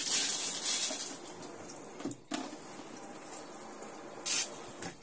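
Water runs steadily from a shower in an Elddis Affinity caravan, a constant hiss of spray with a few brief bumps and louder surges near the start and end.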